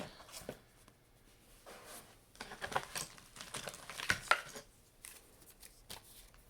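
Red Thread Oracle cards shuffled by hand, giving soft papery riffles and taps in irregular bursts that are close and fairly quiet, with a brief crinkle between them.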